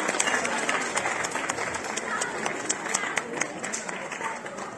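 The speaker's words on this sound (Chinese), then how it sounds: "掌声有请。" A theater audience at a Deyunshe crosstalk evening show at Sanqingyuan applauds as two comedians come on stage, a dense, steady wash of clapping throughout.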